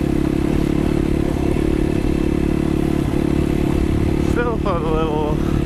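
A Honda Grom motorcycle rides off-road, its engine a loud, steady, close drone with clattering and scraping from the rough ground, and a voice briefly comes through near the end.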